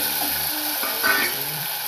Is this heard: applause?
no